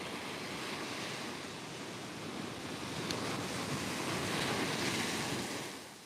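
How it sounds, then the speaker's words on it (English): Small ocean waves breaking on a sandy beach, a steady broadband wash of surf with wind noise, swelling slightly midway and easing off at the end, with no voices. "There's just enough wave to be fun."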